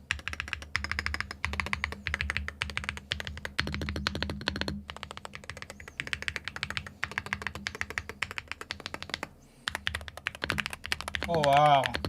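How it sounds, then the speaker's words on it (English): Rapid typing on an Aula F75 mechanical keyboard, a steady stream of crisp, close keystrokes with brief pauses, heard alongside a voice talking. "this is the Aula F75, which isn't a Hall effect keyboard, but it is a keyboard that does sound very good"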